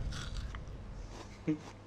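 A crisp bite into a hard, juicy apple-pear hybrid fruit, one sharp crunch near the end of a quiet moment, close to the mic.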